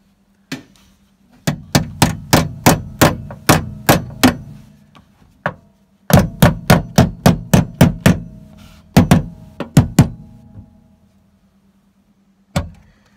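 A hammer strikes metal during a classic Mini cross member repair: bursts of sharp, ringing blows in quick even runs of about ten strikes, separated by pauses, close and loud.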